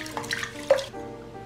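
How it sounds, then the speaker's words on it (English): Water pours and trickles as it drains out of washed rice in a rice cooker bowl, a brief splashing rush that fades into a steady faint trickle. "You want to wash the rice, then drain the water."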